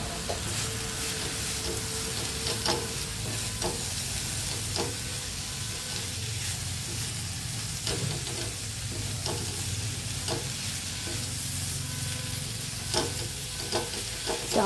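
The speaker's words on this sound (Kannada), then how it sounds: "ಒಂದೂವರೆ ಟೀ ಸ್ಪೂನಷ್ಟು ಎಣ್ಣೆ ಹಾಕಿಕೊಂಡು ಅದಕ್ಕೆ ಇದನ್ನು ಫ್ರೈ ಮಾಡಿಕೊಳ್ಳೋಣ" Steady close sizzle of frying in about one and a half teaspoons of oil in a pan while making Savji mutton gravy, with occasional scraping stirs and clicks running throughout.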